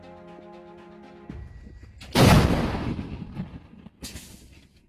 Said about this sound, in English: German-made Panzer-Haubitz 2000 fired by Ukrainians.